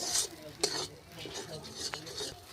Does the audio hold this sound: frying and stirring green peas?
yes